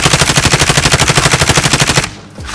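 Rapid automatic gunfire in the shooter game Call of Duty: Modern Warfare, a loud, close, steady stream of shots for about two seconds that stops abruptly, followed by a brief quiet tail.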